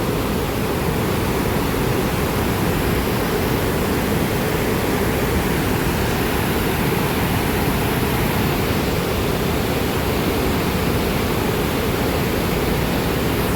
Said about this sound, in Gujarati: એકો એક દરવાજામાંથી ભાઈ પાણી જાય છે